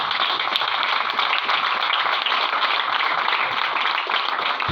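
A church congregation applauds during a sermon, a dense, steady wash of many hands clapping at a moderate distance, unbroken for several seconds.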